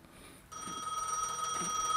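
Telephone ringing inside the Gas Station Simulator video game, a steady electronic ring that starts abruptly after a quiet moment and keeps sounding, fairly loud and close, with no talk over it.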